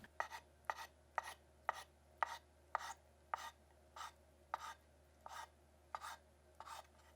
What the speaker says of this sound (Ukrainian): Нарізаю їх не дуже дрібно і не дуже крупно.